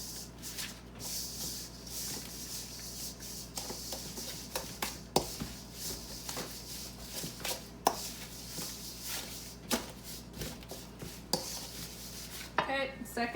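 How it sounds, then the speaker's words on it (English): Raw egg being stirred into chocolate chip cookie dough in a bowl makes close, repeated soft thuds and scrapes of a utensil in a steady rhythm. "so I can dump that in. And then I'm just gonna give it a mix"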